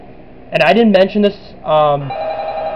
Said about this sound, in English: we're going to get some kind of distorted phone call from the animatronic that killed him